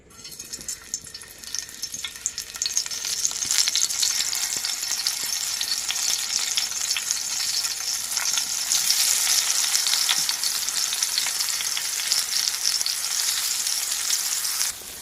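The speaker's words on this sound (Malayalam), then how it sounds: "എണ്ണ ചൂടാകുമ്പോൾ നമുക്ക് ഇതിനകത്ത് മസാല പുരട്ടി വെച്ചിരിക്കുന്ന വഴുതനങ്ങ ഇട്ട് കൊടുക്കാം" Eggplant slices coated in masala sizzle hard as they fry in hot oil in a pan. A loud, steady crackling hiss builds after the first moment and holds throughout, with no talking.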